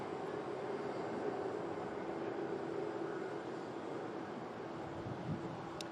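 A Turkish Airlines jet departing Manchester Airport during Storm Lilian sends a distant, steady roar under heavy wind noise.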